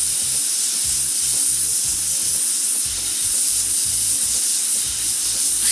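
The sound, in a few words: hot air plastic welding with plastic ribbon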